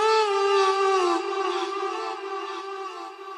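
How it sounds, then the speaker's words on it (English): Processed vocal chops in a melodic house track sustain as a smooth, pitched, singing tone that glides slightly downward, then settle into a softer held note with airy reverb trailing behind. "like vocal chops I called them,"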